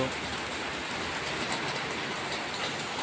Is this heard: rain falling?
yes